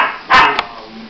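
An 11-week-old puppy from a litter of four gives one sharp, close bark followed by a brief softer yip, over a quiet indoor background.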